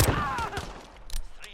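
Rapid bursts of gunfire in the video game Call of Duty: Modern Warfare crack close and loud in quick succession, with a voice talking over part of the shooting.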